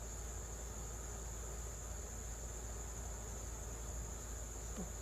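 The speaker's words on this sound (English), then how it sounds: "but the cicadas don't stop." Steady high-pitched insect buzzing drones on without pause, like cicadas in the distance, over a low constant background hum.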